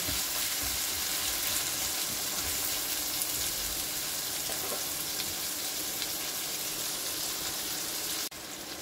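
Three or four small potatoes frying in oil alongside a katla fish head, a continuous close sizzle at an even level throughout, cut by a brief dip near the end, with no voices.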